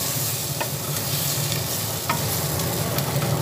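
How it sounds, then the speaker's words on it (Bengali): Egg mixture for egg dhoka being stirred and dried in a pan over low flame, a soft continuous sizzle with occasional scraping clicks of the spoon, close and alone. "তার মধ্যে এটা ভালোভাবে নাড়াচাড়া করে করে এটাকে শুকিয়ে নেব।"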